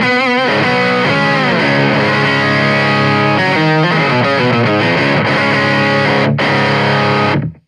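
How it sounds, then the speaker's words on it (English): Electric guitar played through a Soundblox Pro Multiwave Distortion pedal, set for a traditional distortion or overdrive tone, with loud, sustained, saturated chords and riffs that keep going without a break until a sudden cutoff at the end. "that's one of the more sort of traditional distortion or overdrive sounds I came up with on the unit"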